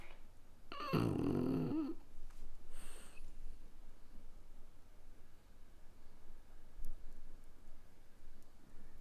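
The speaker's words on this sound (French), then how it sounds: "On est mardi et ça ronfle." Snoring from someone asleep indoors: one loud, rasping snore near the start and a shorter second one soon after, then only quiet breathing and low room noise.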